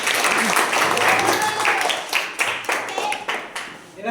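People clap after a young girl sings a patriotic song about the motherland, a fairly loud patter of hands that rises and falls across a few seconds, with some voices mixed in.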